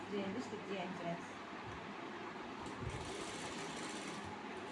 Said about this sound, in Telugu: డబల్ స్టిచ్ చేద్దాం.